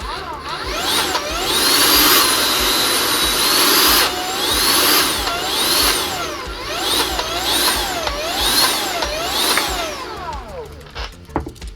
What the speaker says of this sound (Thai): เดี๋ยวผมจะลองรันให้ดูว่าเสียงเครื่อง จะเป็นยังไงนะครับ นี่เปิดที่สปีดโหมดเบอร์สาม